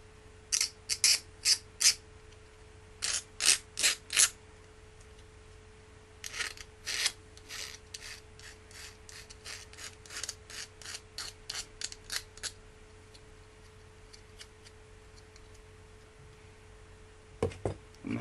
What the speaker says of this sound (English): I'm going to file some of the sharp edges off.